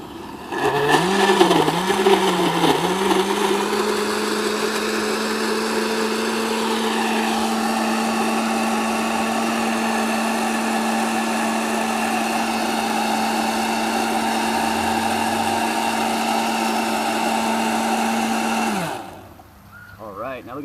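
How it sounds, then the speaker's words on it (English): A kitchen blender whirs at a steady, loud pitch as it purees chunks of soil-feeding plants with plenty of water, the motor straining briefly at the start before settling into an even drone that cuts off near the end. "Let's give it a blend."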